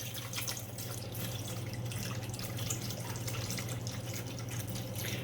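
Pink coconut water splashes steadily from a 16-ounce bottle into a container. The pour runs continuous and close, with a faint background hum under it.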